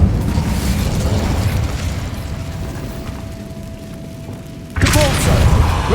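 An Incendio fire spell cast in Hogwarts Legacy lands as a sudden booming burst near the end, after a stretch of low rumbling ambience.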